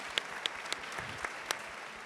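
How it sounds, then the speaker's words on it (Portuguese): A short burst of scattered clapping from an audience at the Senac Rio Summit 2024, a handful of distinct claps spaced out over about two seconds. "E vamos aplaudir."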